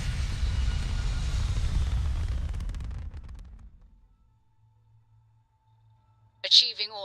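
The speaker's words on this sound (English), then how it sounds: "Liftoff initiated, Captain. Time to venture into that beautiful sky." A spaceship lifts off in the Starfield game with a loud, broad engine roar that fades away over a few seconds, leaving a quiet low hum and a short burst of sound near the end.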